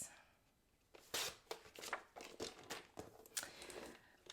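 Paper card stock is cut into a panel for a handmade card, giving a series of soft, close, quiet crisp snips and rustles in short irregular bursts after a brief pause.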